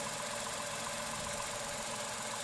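The 3-cylinder petrol engine of a Tata Altroz with about 5,500 km on it runs at a steady, even drone, fairly quiet and unchanging, with no voices.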